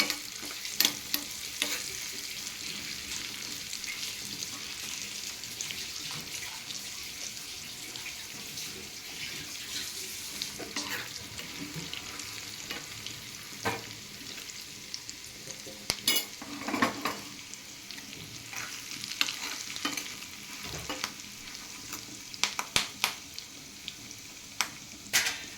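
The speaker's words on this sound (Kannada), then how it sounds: "ನೋಡಿ ಒಗ್ಗರಣೆ ರೆಡಿ ಆಗ್ತಾ ಇದೆ." Spices sizzling and crackling in hot oil for a GSB-style dalitoy tempering (oggarane), with mustard seeds popping in sharp bursts over a steady fry hiss while a spoon stirs and scrapes the pan, fairly close, no talking.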